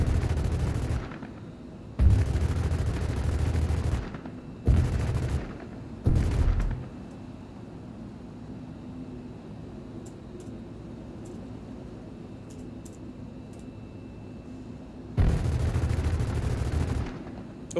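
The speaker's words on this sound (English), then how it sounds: "I wonder what the guns sound like from like a distance." Gunfire in the video game Star Citizen comes in several loud, clustered bursts of rapid shots separated by stretches of quiet hum, with a final long volley near the end.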